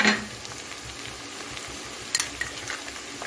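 Cumin paste sizzles in a pan of softened fried onions over low heat while being stirred, a steady quiet frying hiss with a few brief utensil scrapes near the end.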